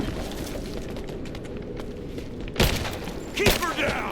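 Enemy gunfire in the video game Rise of the Tomb Raider, a steady low rattle of shots that swells into louder bursts toward the end, mixed with game effects and shouted dialogue.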